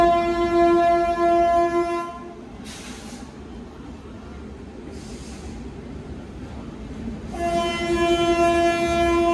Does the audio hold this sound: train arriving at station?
yes